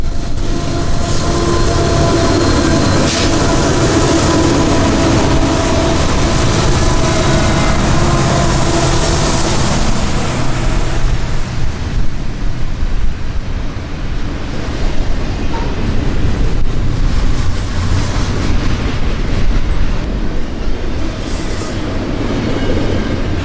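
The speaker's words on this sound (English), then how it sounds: "This westbound stack train has just finished fueling and is again on the move." A westbound Union Pacific diesel stack train rolls off after fueling, loud and near at first with rumbling cars and faint wheel squeal, then easing into a steadier, slightly softer roll of passing wagons.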